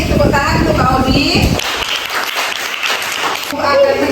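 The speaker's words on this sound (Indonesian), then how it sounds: "Tepuk tangan untuk Mbak Audi." A classroom claps for a student presenter after a Fiqh lesson, with the applause coming in under talk at first, then standing alone as a dense patter, before voices return at the end.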